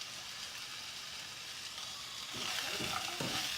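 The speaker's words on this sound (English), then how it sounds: "we need to fry the onions for 2 to 3 minutes" Onions with turmeric frying in a pan, a continuous close sizzle that grows louder partway through, with a few soft stirring scrapes toward the end.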